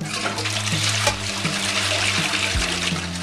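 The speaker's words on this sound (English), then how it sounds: "We're gonna watch the toilet flush." A toilet flushing indoors, its steady rush of water close and loud throughout, with intermittent tonal hum or music running underneath.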